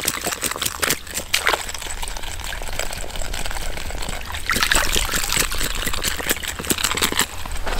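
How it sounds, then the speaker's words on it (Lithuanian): A small basket of pinkie maggots is rinsed in water for night bottom fishing, giving continuous splashing and trickling with sloshing bursts, close and fairly loud throughout, no talk. "varom į vandenį ir biškelį paplausim tas pinkas"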